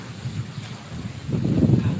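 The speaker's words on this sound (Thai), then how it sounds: "ลมมาแล้วนะคะ" Gusty wind buffeting the microphone, a low rumbling roar that swells louder in the second half.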